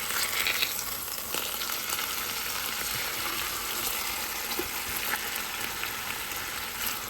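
Meat searing in a pot for Japanese curry, a steady, close sizzle of frying with faint stirring and crackles throughout, and no talk.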